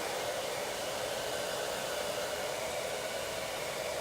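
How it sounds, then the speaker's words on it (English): A hair dryer blows down the shaft of long layered hair during a haircut, a steady, loud, continuous whooshing roar throughout with no voices. "So I'm blow drying down the hair shaft, right?"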